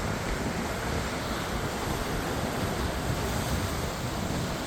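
Steady, loud roar of ocean surf on a rocky shore, heard from atop a rock, with wind buffeting the microphone, continuous and without breaks.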